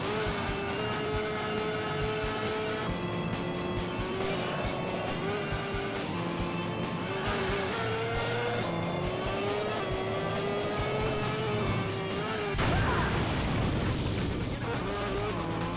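Engines whine and rev steadily as cars race and crash in the PS2 game Jacked, with pitch rising and falling under game music, then a harsher burst of impact noise near the end.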